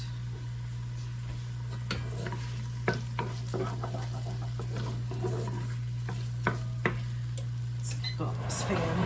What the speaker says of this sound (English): we're gonna let this cook for a little bit till it gets nice and fragrant and those onions get soft